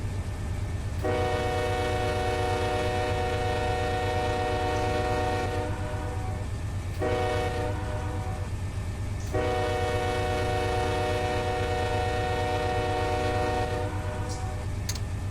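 A 6,000-foot freight train in the Run 8 train simulator game rolls with a constant low engine rumble while its horn sounds in long blasts, a short one, then another long one.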